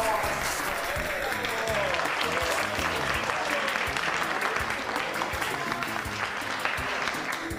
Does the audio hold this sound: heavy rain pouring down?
no